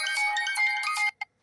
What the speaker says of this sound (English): And now you guys know I got a phone call.